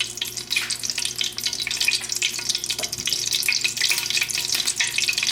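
Olive oil and a tablespoon of butter melting in a pan over medium-high heat, giving a steady, dense sizzle and crackle that runs unbroken and close throughout, with no voices.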